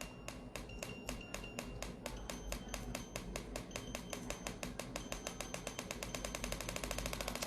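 An SMP (scalp micropigmentation) auto machine taps out rapid clicks that steadily quicken from a measured tick to a dense, buzzing rattle, close and fairly quiet over a low hum, with no voices.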